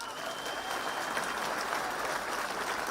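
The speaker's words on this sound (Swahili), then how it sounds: "Unaweza piga makofi sawa sawa." An audience at an evening prayer gathering claps steadily for about three seconds, a dense, even wash of applause at moderate distance with no voices standing out.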